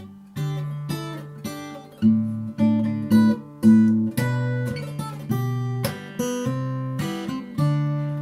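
Fingerstyle acoustic guitar plays a song, plucked bass notes and chords in a steady bouncing rhythm, close and clear with no talking.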